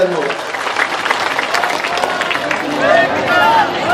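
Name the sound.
farmers' crowd applauding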